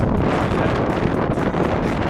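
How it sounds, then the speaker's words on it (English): Strong Santa Ana winds in a desert backyard buffet the microphone, producing a loud, constant roaring rumble with gusty fluctuations throughout. "I get the Santa Ana winds. I'm on the camera right now, but it's super windy."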